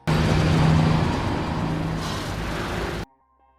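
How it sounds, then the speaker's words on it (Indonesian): A bus passing by in a film chase scene, a loud, broad rumble of heavy engine and road noise that holds steady for about three seconds before cutting off abruptly into near silence. "Karena ada sebuah bis yang melintas"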